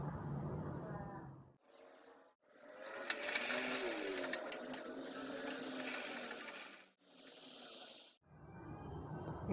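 A sewing machine runs in bursts as it stitches a child's dress, with short whirring runs separated by pauses, the longest run in the middle; close and fairly quiet.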